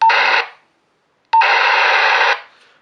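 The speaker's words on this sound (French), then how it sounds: "Il scanne tout le réseau." A Talkie Walkie T-388 PMR446 two-way radio scanning channels gives two loud electronic bursts: a short one, a pause of almost a second, then a longer one-second burst, each opening with a brief click and tone.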